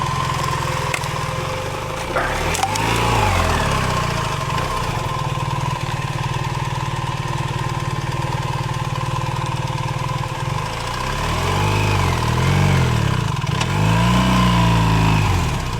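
A BMW 1300 GS Adventure motorcycle engine runs steadily on a single-track trail, a loud close idle-to-throttle drone with rising revs near the end.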